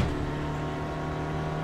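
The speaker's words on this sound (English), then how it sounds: "I know I'm way too high in the revs" A Spec Racer Ford race car engine drones steadily at high revs, a sustained buzzing hum without pauses, fairly close and moderately loud.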